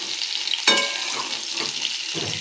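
Cauliflower fries in a pan with a soft, steady sizzle, broken by several sharp bursts of crackling as the pieces are stirred, no talking.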